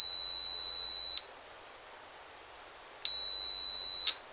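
Two steady electronic beeps from a multimeter in continuity mode, its probes touched to the ends of a wire. The first is about a second long, then a pause, then a second beep of similar length. Both are loud and close, with no talk.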